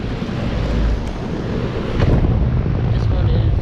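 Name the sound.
Goodman GSX14 air conditioner running, Broad Ocean fan motor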